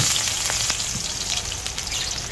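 Garlic frying in cooking oil in a pan, a dense, continuous hiss and crackle like rain, close and steady with small pops throughout.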